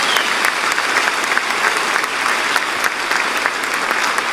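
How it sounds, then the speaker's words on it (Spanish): A church congregation gives a loud, sustained round of applause during a sermon, dense continuous clapping from many hands that fills the room without pause. "Ahora dale un fuerte aplauso al Señor."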